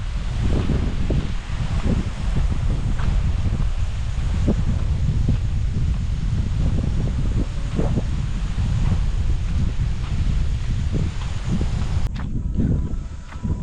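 Strong wind at Machampalayam roars steadily into the microphone for the whole stretch, a dense low buffeting rumble with faint rustling and occasional gust thumps; no talking.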